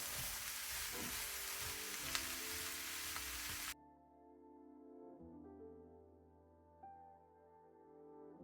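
Leeks sauté in a traditional clay pot for Bulgarian kavarma, giving a soft, even sizzle for several seconds before it stops abruptly and quiet tonal music takes over.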